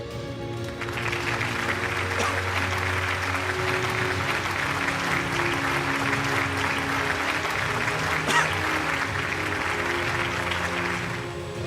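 Sustained audience applause fills the hall at the Chittara Star Awards 2024 ceremony as actor Sri Murali receives the Star Icon award, with steady clapping throughout and a backing music bed underneath.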